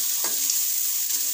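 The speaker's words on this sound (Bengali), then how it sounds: "পেঁয়াজ থেকে বাদামি কালার করে নেব, পেঁয়াজটা যখন লাল হবে" Onions frying in oil until browned for a Bengali raw-banana and fish curry with poppy seed paste, a steady dense sizzle with a couple of brief stirring scrapes, close and continuous with no voices.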